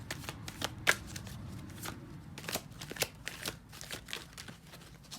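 Tarot cards are shuffled close up in a quiet room, a soft crackling riffle with repeated sharp card snaps, several distinct flicks spread over a few seconds.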